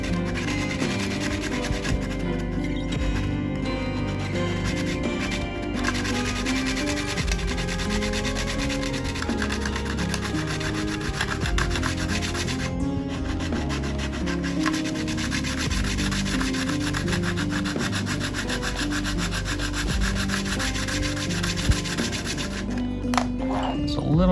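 A sanding stick rubbing down a filled repair on a RAV-3 "Zipper", a continuous close scratchy scraping of steady back-and-forth strokes, with music playing underneath.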